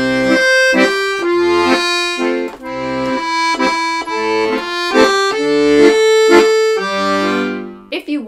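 Accordion playing a melody with the bellows pulled out for four measures and pushed in for four, sustained reedy chords with steady rhythmic bass notes, close and loud, brief gap at the bellows change.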